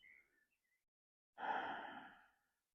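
A single slow, audible exhale during a yoga practice, soft and breathy, following a brief faint intake of breath, alone in a quiet room.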